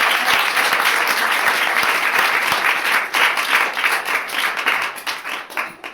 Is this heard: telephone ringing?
no